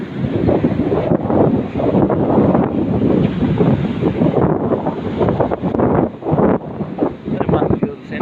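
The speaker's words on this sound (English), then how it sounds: "It's very windy." Strong wind on a rainy beach buffets the microphone in heavy, continuous gusts, with a broad roar that may include surf beneath it.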